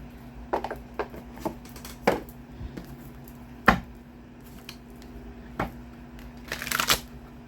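Cards being shuffled in quick, uneven bursts of riffling and snapping, close up, with a faint steady hum underneath and no talking.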